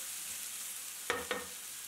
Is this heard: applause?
no